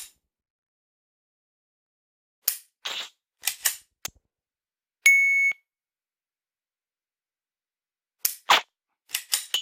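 Smith & Wesson SD9VE pistol dry-fired during laser training: sharp, isolated trigger clicks in small irregular clusters, with one short electronic beep between them, against silence.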